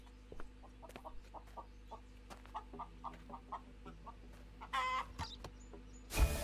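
Chickens cluck in short, repeated bursts within the video game Contraband Police, fairly quiet and regularly spaced over a low hum, with a brief louder squawk near the end.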